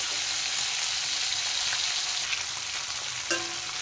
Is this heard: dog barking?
no